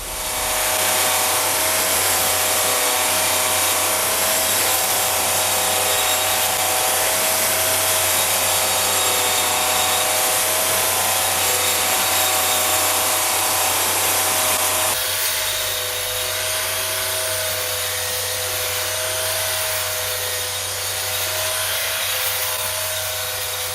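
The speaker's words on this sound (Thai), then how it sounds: "เดี๋ยวเรามาทดสอบตัดหญ้าบริเวณนี้กันนะครับ" A 60-volt cordless electric grass trimmer cutting thick grass whines steadily at a high pitch for a long stretch, with a constant buzzing drone and a slight shift in tone midway.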